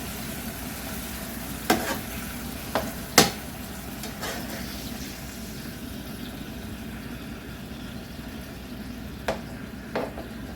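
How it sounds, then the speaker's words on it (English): Fresh butcher sausage fries softly in a pan. A low sizzle runs throughout, broken by a few sharp scrapes and knocks as a utensil breaks the meat apart, with long quiet frying between. No one speaks. "Now as this cooks, I'm gonna break it up so it'll cook faster."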